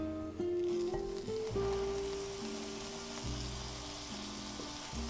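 A buttered leftover grilled cheese sandwich sizzles in a pan, a steady, close frying hiss with soft tonal music underneath.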